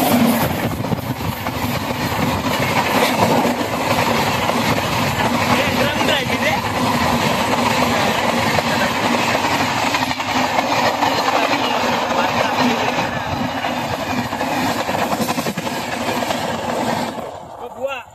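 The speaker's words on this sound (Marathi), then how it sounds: "ट्रेन आलेली आहे आता टायमिंग वरती" A train on a railway track rumbles past at close range, giving a loud, sustained roar with rhythmic clatter that lasts nearly the whole time and then fades at the end.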